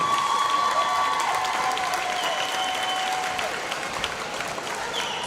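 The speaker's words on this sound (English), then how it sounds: "Let's give another round of applause to our basketball seniors." An indoor crowd at a Christian school basketball event gives the basketball seniors a sustained round of applause, dense clapping that fades slightly toward the end.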